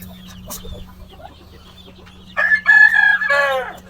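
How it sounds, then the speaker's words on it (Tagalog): A rooster crows loudly and close in a backyard coop that holds white and black Parwakan chickens. Quiet farmyard ambience and faint clucks lead into the crow, which comes in the final second and a half. "Malaking manok yan, Kajin Raymond."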